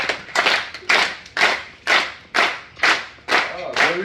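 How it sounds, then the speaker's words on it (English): Audience on a Disney Wonder cruise ship clapping in unison along to a Tongan sitting hand dance, eight sharp, evenly spaced claps at a steady moderate tempo, close and loud with little else around them. "Bring up your hands in front of you and clap along."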